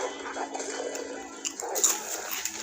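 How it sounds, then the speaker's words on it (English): A dog attacking in an action film fight scene, growling and snarling with yips and whimpers over a dense, continuous mix of movie sound, moderately loud and fairly close. "That dog tearing their ass up."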